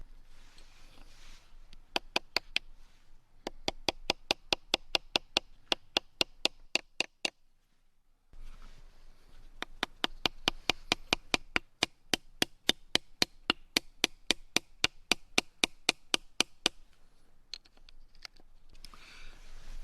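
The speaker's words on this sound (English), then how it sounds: "I hammer those into the wood or a flat log just to hold the stone steady" Small nails are hammered into wood or a flat log in the field to hold a sharpening stone steady. Sharp, rapid tapping comes in two long runs separated by a brief pause, close and crisp, with no voices.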